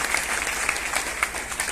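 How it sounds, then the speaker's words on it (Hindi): Seminar audience applause, a steady dense clatter of many hands clapping at moderate loudness throughout, with no voices over it. "इनके लिए भी एक बार जोरदार तालियां होनी चाहिए"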